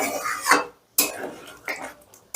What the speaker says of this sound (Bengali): এবারে সমস্তটা আলতো হাতে মিশিয়ে দিয়ে আমি 2 মিনিটের মতন স্ট্যান্ডিং টাইমে রাখবো।